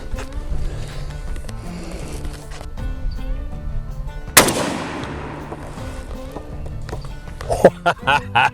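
A Mossberg SA20 shotgun with a Carlson 555 choke fires a 3-inch, 1.5-ounce load of Hevi-Shot number 9 TSS turkey shot during a pattern test: one sharp loud blast midway, with background noise and a few clatters after it.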